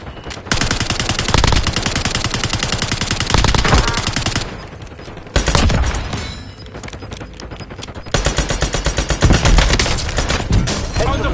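Gunfire in Call of Duty: Warzone, with loud, close bursts of rapid automatic fire in three long stretches, separated by brief quieter gaps.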